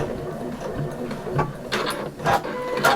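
Sewing machine quilting layers of fabric for a large bag, a steady mechanical whir with faint ticking stitches running throughout at moderate, close level.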